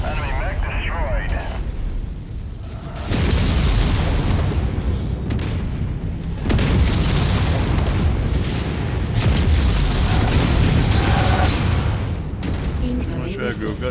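An enemy mech is destroyed in a mech combat video game, with loud booming explosions and heavy rumbling blasts rolling in several waves, close and dense, under game radio voices.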